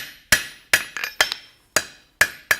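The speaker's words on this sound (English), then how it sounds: "rotate our hammer and spreading out sideways" A blacksmith's cross peen hammer spreads forged metal sideways on an anvil with seven or so sharp, ringing strikes at uneven intervals, each decaying with a bright metallic tone, close and loud with no speech.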